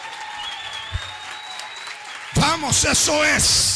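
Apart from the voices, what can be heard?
congregation applauding in church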